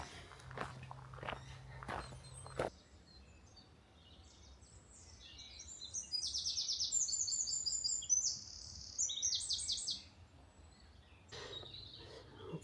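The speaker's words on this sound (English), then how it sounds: "seem to be a lot of birds around this little corner" Birds singing around a corner on a countryside walk near Bishops Waltham and Upham: a cluster of high chirps and trills in the middle, fairly faint, with soft footsteps and rustling before and after.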